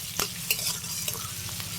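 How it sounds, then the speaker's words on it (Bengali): Chopped onion frying lightly with ginger in a pan, stirred with a few scraping strokes over a steady close sizzle, with no talk. "পেঁয়াজটাও একটু আদার সঙ্গে ভেজে নেব হালকা করে।"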